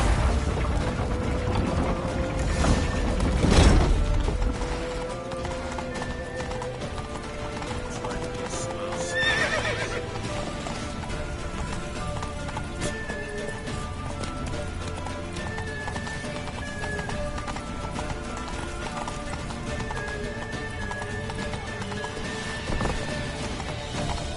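A horse gallops with rhythmic clip-clop hooves and neighs in The Witcher 3 video game, with a loud crash early on, under game music and ambient effects.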